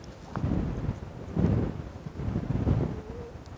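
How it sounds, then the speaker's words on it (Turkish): Gusting wind rolls across an outdoor yard in low, rumbling surges that rise and fall, buffeting the microphone, with no one speaking. "Rüzgar mı geliyor dedim."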